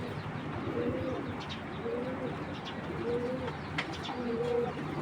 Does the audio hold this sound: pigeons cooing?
yes